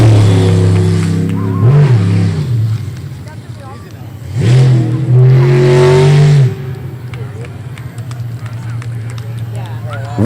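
A race car at an ASBR Stihl pro racing event takes a victory lap, its engine rising and falling in two loud revving passes, with an announcer talking throughout.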